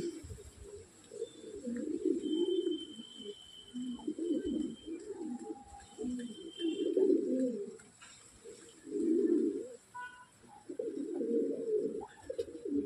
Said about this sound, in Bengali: দেখো সাদা পায়রা, শান্তির প্রতীক